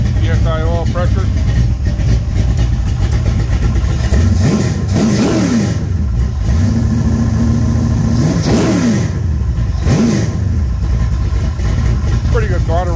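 A 422 cubic inch small block Mopar stroker engine, a 340 built with a Scat stroker kit, revs repeatedly from idle in sharp throttle blips, rising and falling several times close by and loud.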